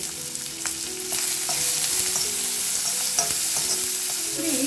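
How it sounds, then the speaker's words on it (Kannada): Finely chopped onion frying in a pan for a North Karnataka fenugreek-leaf dish, a steady close sizzle broken by scraping and stirring strokes, with no talk. "ಈರುಳ್ಳಿನ ಚೆನ್ನಾಗಿ ಫ್ರೈ ಮಾಡಬೇಕಾ?"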